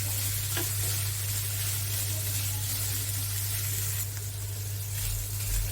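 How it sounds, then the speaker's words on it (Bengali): Radish greens and small shrimp fry in a pan while being stirred, giving a loud, steady, close sizzle and hiss that runs unbroken throughout, with no talking. "ভালো করে আর একটু ভেজে নেব শাকগুলো"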